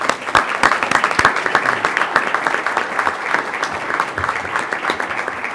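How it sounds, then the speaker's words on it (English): A round of applause at a formal school board meeting for two award recipients called up front, a dense crowd clapping steadily for several seconds without any talking. "If you could give them a round of applause"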